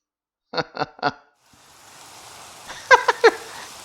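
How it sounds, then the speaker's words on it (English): Rain in Minecraft, a soft hiss of rainfall fading in after a few clicking bursts and continuing low and steady, with more brief tonal bursts on top near the end. "It's a desert too. And it's raining."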